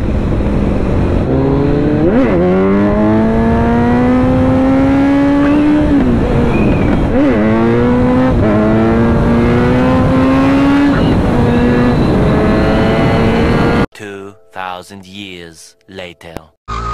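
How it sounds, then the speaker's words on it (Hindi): A KTM RC 390 motorcycle doing a burnout holds a loud, sustained high engine whine with repeated rising revs, recorded up close, then cuts abruptly into choppy wind-buffeted noise near the end. "बर्नआउट देख रहे हो भाई"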